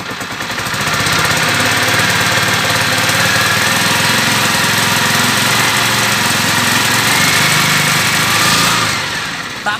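A 2003 Honda CG 125 Titan KSE motorcycle engine with a faulty regulator rectifier runs loud and steady as it is revved, a rough mechanical drone held for several seconds before easing off at the end.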